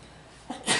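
A person sneezes once, a short faint burst with a quick intake of breath, in a quiet room during an architect visit.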